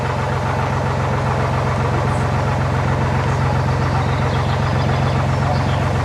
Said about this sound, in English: There's a tractor behind us, not going any faster than there we're walking.